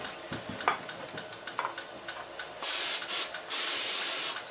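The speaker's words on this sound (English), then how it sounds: "Gonna put a little spray oil" Cooking spray oil hisses in two loud bursts into the compartments of a pan for poaching quail eggs, following some soft clicks and handling taps.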